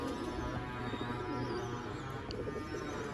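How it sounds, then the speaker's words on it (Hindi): Sialkoti chuhe pigeons cooing in a loft, soft repeated throaty coos overlapping one another at close range, fairly quiet and continuous with no voices. "ये कबूतर है दोस्तों"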